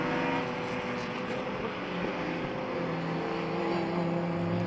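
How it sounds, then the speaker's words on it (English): A V8-powered Porsche 928 race car passes by at a classic racing event on the Jarama circuit, a loud sustained engine roar with steady harmonic tones swelling slightly as it goes through. "The Porsche 928 goes through."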